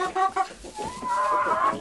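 Hens clucking inside a chicken house, a steady run of close, overlapping clucks and calls with a longer drawn-out note toward the end, no talking.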